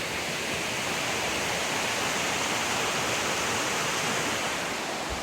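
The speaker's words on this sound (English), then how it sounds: "Here's the river." River flowing along a backpacking trail in the Virginia woods, a dense, steady rushing of water, loud and close, with no voices.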